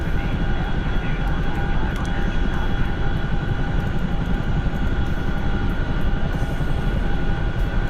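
In a flight simulator game, the engine of a Chinook helicopter drones in a steady, dense roar with a faint whine on top. It stays constant throughout, and no one speaks over it.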